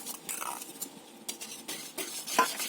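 A spoon stirs yogurt starter into warm milk in a metal pan. Soft scraping and clinking strokes come in irregular bursts, close and quiet, with no voices.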